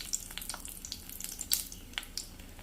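Mustard seeds and dried red chillies frying in hot oil, with scattered crisp crackles and pops over a steady faint sizzle, close by and without voices.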